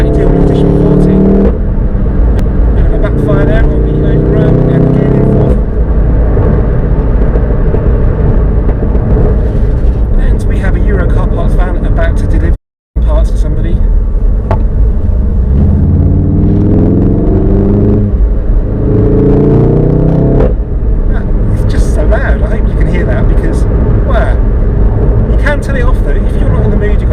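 A VW Golf GTI Clubsport S engine drives hard, a loud steady rumble rising and falling through the gears with brief sharp crackles on the overrun; a voice talks over it throughout.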